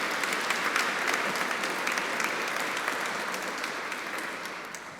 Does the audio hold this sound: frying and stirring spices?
no